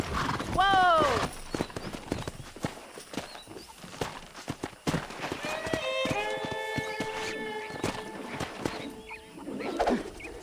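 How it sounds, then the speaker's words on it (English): In a Red Dead Redemption western ranch setting, horses clip-clop and whinny loudly, with more hoofbeats and calls over faint outdoor ambience and brief voices. "That ranch hand said there's a pack of horses."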